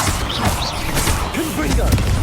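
A Bombarda spell blast from Hogwarts Legacy bursts amid dense game noise, with whooshing magic swirls and low rumbling impacts over a steady, loud mix of clattering effects.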